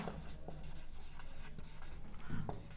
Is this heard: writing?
yes